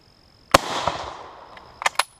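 Two or three sharp cracks from a Krag-Jørgensen Model 1898 long rifle firing .30-40 Krag rounds outdoors, one loud shot with a long ringing decay followed by a quick pair of closer reports near the end.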